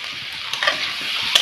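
Papaya chutney stirred in a pan, a brief soft sizzle with a couple of light scraping strokes from the spoon, close and quiet with no talking.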